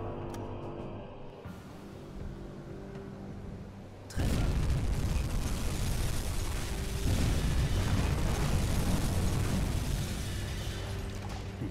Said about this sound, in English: two massive torpedo strikes, massive fire on board, and plenty of explosions to go with them